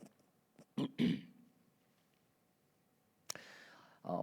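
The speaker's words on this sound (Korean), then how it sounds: "갑자기 기침이 나오네." A preacher in a church sermon gives a few short throat clears and coughs close to the microphone, spaced out between quiet pauses.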